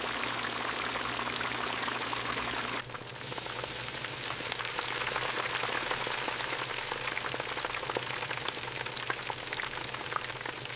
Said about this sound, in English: The industrial pressure fryer receives the basket, and boiling oil envelops every piece of meat.